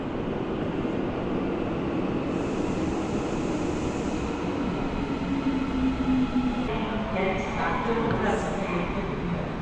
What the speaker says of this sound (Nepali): यो ट्रेन अब ट्याक्क यो चिन्हमा आइपुग्यो